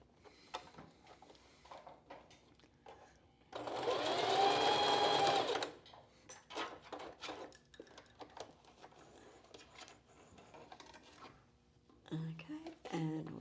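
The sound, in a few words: sewing machine stitching through foam and channeling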